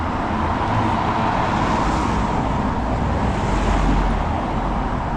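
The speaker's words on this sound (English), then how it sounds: "you hear the cars drive up the, it's like a cobblestone, but they're brick laid." Cars drive over a brick-laid street in Sofia, Bulgaria, making a loud, steady rumble of tyres and engines with no pauses.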